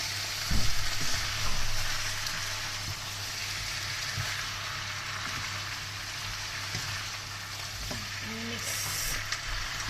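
A very full pan of adobo fries with a steady broadband sizzle, stirred with occasional scraping, a continuous close, moderately loud sound with brief louder bumps and no talking.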